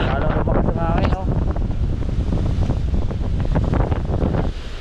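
Strong typhoon wind roars and buffets the microphone steadily, with rumbling gusts and a constant dense rush throughout, loud and close.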